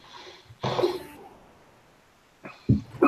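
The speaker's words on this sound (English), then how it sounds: "sorry, sneezed" A single sharp sneeze bursts out close to the microphone, followed after a quiet pause by a few short breathy snorts.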